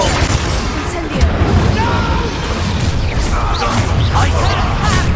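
Fiery Confringo spell blasts in Hogwarts Legacy, heavy booming bursts and crackling impacts amid a dense, loud battle din, with a voice sounding partway through.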